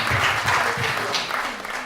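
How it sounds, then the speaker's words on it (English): Brief, loud applause from a church congregation at a ministry service, continuous close clapping lasting under two seconds with a voice faintly underneath. "Give a round of applause"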